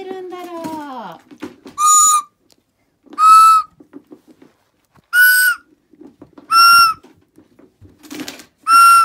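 A toy whistle from a children's pretend-shop playset is blown in five short, shrill, steady blasts evenly spaced, loud and close, with soft talk and handling noise in the gaps between toots.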